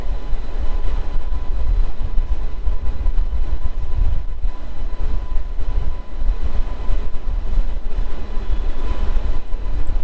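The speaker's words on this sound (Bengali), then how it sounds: "আজকের লোকোমোটিভ হাওড়া কার শেডের WAP5 model, which is pulling ICF coaches." The Hazarduari Express on the Kolkata–Lalgola line, a Howrah-shed WAP5 electric locomotive hauling 14 ICF coaches, makes a loud, steady rolling rumble with rail noise throughout and no one talking.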